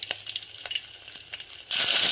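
Crushed garlic hits hot oil with cumin and mustard seeds for a sambar tempering, giving a crackling sizzle that swells suddenly into a loud, dense hiss near the end.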